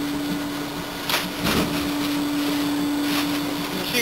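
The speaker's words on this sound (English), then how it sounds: "The machine does a fair job of breaking up the bales itself." A cellulose insulation blowing machine breaks up bales with a loud, steady motor drone and churning, with a few louder grinding surges as material feeds through the tines.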